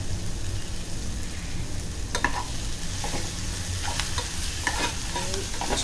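Clams with turmeric, coriander and salt sauté in a pan, sounding as a loud, steady sizzle close by with scattered clicks and scrapes of stirring and no talk.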